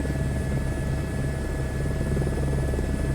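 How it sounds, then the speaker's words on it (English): A helicopter in Microsoft Flight Simulator 2024 flies over Paris with a steady, loud rotor thump and an engine whine. The drone stays even throughout, and no voice is heard. "this is great to practice helicopter flying"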